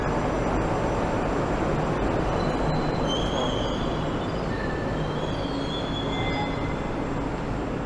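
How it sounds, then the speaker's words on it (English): Train pulling into a metro station in Tashkent, Uzbekistan, a steady loud rumble of rolling wagons with faint high wheel squeals, no talk. "And here is our train. Let's board the train."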